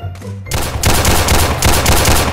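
Loud bursts of automatic gunfire in a Roblox hood shooter game, a brief pause then rapid repeated shots, close and dominant with no talking.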